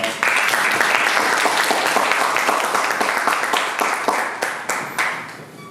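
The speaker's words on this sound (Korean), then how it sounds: "큰 박수로 조천호 박사님을 모시도록 하겠습니다." An audience at a climate forum applauds to welcome a speaker, dense close clapping that holds steady for several seconds and then thins out into scattered claps as it fades.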